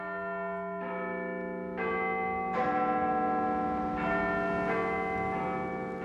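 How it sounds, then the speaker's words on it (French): Big Ben, Britain's largest bell, rings out over the Palace of Westminster in London, several rich, ringing strikes in a measured sequence, each blooming and lingering into the next, with no voices. "la plus grosse cloche de Grande-Bretagne, Big Ben, résonne toujours par-dessus le palais de Westminster"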